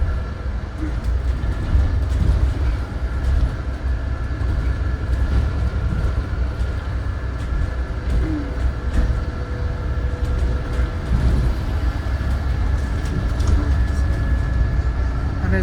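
Class 172 Turbostar diesel train pulling into Birmingham, a steady low rumble and engine drone with rail noise, heard from nearby in a continuous hum for the whole stretch.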